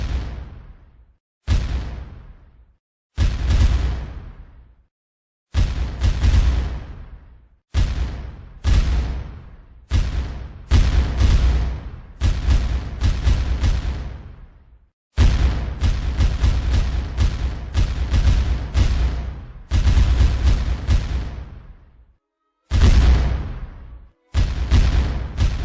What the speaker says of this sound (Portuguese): ocorreu o primeiro combate com tiros de canhão